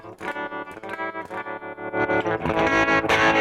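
Guitar played through a UAD Showtime 64 tube amp plugin with bright switch and vibrato engaged, a run of picked notes and chords that pulse with wobbling vibrato and grow louder toward the end.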